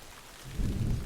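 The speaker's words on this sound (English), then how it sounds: "It's currently raining in daytime" Rain falling in the daytime Plains of Eidolon in the game Warframe, a steady wash of noise that swells into a heavier, denser downpour partway through, with no voices.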